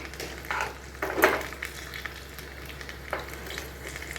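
A tempering of cumin, red chili and garlic sizzles softly in hot oil, a steady frying hiss with a few brief stirring clinks and scrapes of a spoon against the pan.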